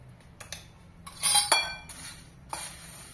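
Kerala mixture snack tossed with chilli powder and salt, giving a brief run of metallic clatter and scraping from a utensil against a pot, loudest in the middle, close and without talk.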